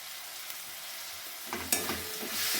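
Shrimp fry in oil in a pan as powdered spices go in, a soft steady sizzle that swells after a sharp clink and a few stirring scrapes, faint and close with no voices.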